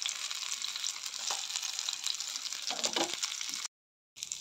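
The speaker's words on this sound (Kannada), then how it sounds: "ಮೀನು ಫ್ರೈ ಆಯಿತು, ಚಂದ ಬಂದಿದೆ" Fish fries in a pan with a steady close sizzle and a few stirring clatters, cutting out briefly before resuming.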